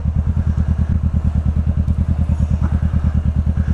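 A Zontes Mantis 125 motorcycle engine idles with a fast, even, loud thumping beat, close by and steady, with no talking.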